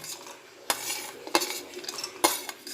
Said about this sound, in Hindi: अब मैं इसमें ये मूंगफली के दाने डालूँगी